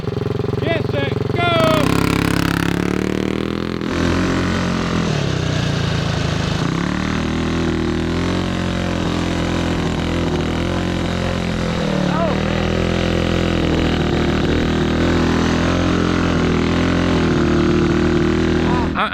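A 228cc stroker-engined 4WD Bronco Power Wheels ride-on racing a wet, muddy Grand Prix lap, its small engine buzzing loud and steady throughout with revving swells, and voices talking over it.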